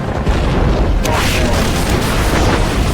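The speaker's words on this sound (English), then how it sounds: "in the face of intense but inaccurate anti-aircraft fire, the Enterprise Avengers continue making runs on the harbor." Anti-aircraft fire in a WWII raid on a harbor, a dense, loud rumble of booms and bursts that runs throughout, with a narrating voice over it.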